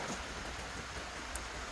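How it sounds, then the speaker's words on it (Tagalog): Steady cyclone rain hiss fills the scene, a constant broadband wash with a couple of faint drip accents, no voices. "Kasi hindi pa tapos ang ulan."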